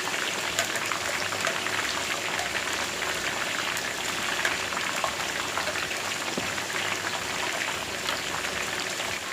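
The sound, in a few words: mutton leg (raan) frying in oil on full flame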